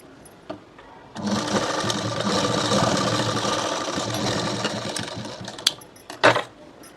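A sewing machine runs steadily for several seconds, stitching half-inch tucks on a small girl's blouse, with a close, continuous mechanical whir that stops, followed by a few sharp clicks and knocks.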